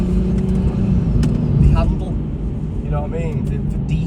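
Pirelli run-flat tires roll along the road with a continuous low rumble and hum from inside the moving car, while someone talks over it.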